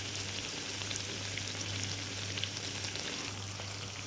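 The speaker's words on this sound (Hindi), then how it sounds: "अब इसको हम स्लो पर भी फ्राई करेंगे" Medu vada frying in oil on low heat, giving a steady, even sizzle with faint crackles throughout, constant and close with no talking.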